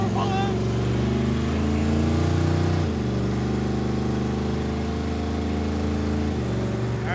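A 1950s Chevy Tri-Five on the highway, its engine humming steadily with a clear pitch drop near the middle as it shifts gears, then a smooth cruising drone.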